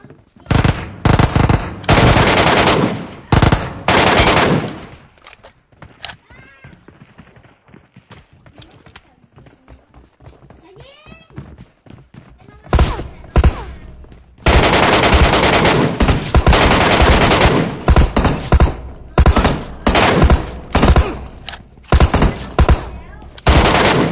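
Rapid bursts of gunfire in the battle royale shooter Metro Royale, loud dense volleys at the start and again later, separated by a quieter stretch with faint effects and music; a speaker talks over parts of it.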